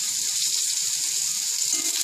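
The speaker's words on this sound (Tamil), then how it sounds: "நல்லா 2 நிமிஷம் இந்த பாவக்காயை வறுத்துட்டேன்" Bitter gourd pieces roasting in a pan, giving off a steady, close sizzling hiss with faint crackles underneath, heard alone without voices.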